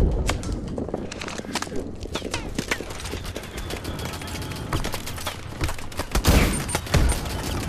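Dense, continuous gunfire in the video game Call of Duty: Advanced Warfare, rapid overlapping shots and impacts crackling throughout with louder bursts near the end.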